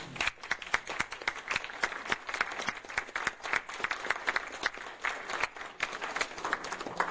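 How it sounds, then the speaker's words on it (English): A concert audience applauds after a flute and piano recital, a sustained, fairly close patter of many hands clapping with uneven bursts and no talking. "They deserve another applause."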